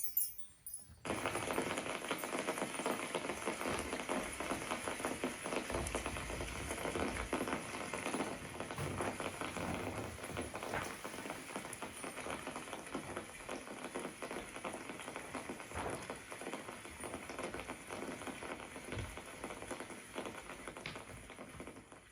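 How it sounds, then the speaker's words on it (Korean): Rain falls in a steady, even patter that continues without a break, soft and hissing on a surface, with no voices. "비가 내리기 시작합니다."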